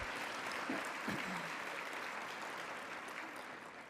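Conference audience applauding at a women's leadership event in Vancouver, dense sustained clapping heard from within the hall, fairly even and slowly tapering toward the end.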